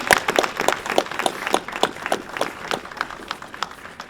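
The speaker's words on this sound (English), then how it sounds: "Yes, give them a round of applause." Small audience at a town hall annex dedication ceremony clapping, with sparse, distinct hand claps in an uneven rhythm, moderately close, lasting about four seconds with no talking.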